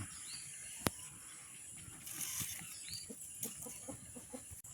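Chickens cluck softly in a scatter of short, quiet calls over a low village outdoor background, with one sharp tap near the start.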